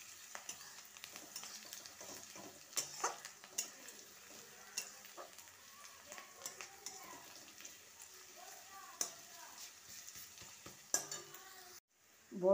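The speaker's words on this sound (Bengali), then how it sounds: "এবার এতে দিয়ে দিলাম" Garlic and ground spices such as chilli, turmeric, cumin and coriander frying in a pan for a vegetable jhal frezi, with a steady low sizzle and repeated scraping stirs of a spoon, a louder clatter near the end.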